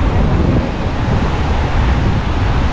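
Sea waves wash in at Praia da Enseada beach in Guarujá, a loud, continuous broadband roar of surf and wind filling the whole stretch.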